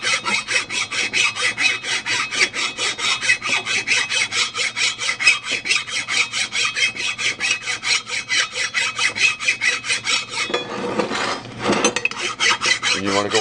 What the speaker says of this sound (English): If you guys are going to file this stuff, this is a die cast material. You want to use an aluminum file.